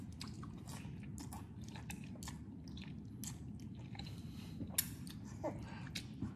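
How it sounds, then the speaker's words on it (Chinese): Someone eating thick ramen noodles from a large bowl, with close, soft chewing, biting and slurping sounds repeating steadily over a low background hum. "先吃一口面。"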